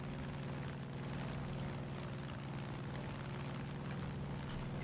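Airplane engine in the video game Far Cry 5, a steady, loud droning roar that holds constant throughout with no speech.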